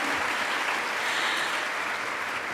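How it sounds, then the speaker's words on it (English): An audience at a keynote talk on staying positive claps in sustained, dense applause, steady and fairly even throughout, heard from within the hall with no voices. "Another round of applause for these wonderful ladies"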